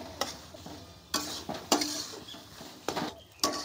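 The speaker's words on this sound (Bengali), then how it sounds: "এই মশলাটাকে ভালো করে কষিয়ে নেবেন" Spiced chicken and potato filling being stirred and sautéed in a pan, with a soft continuous sizzle and repeated sharp scrapes and knocks of a spatula against the metal, close and without speech.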